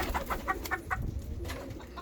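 Malaysian Serama chickens, a laying hen with a rooster, make a quick rhythmic run of short clucks over a steady low background, with no talking.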